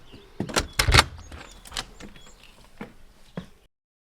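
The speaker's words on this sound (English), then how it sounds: "Right, I'll open the door." A door in an art studio opens with a few sharp clicks and knocks of the latch and handle, then softer creaks and taps, close and fairly quiet.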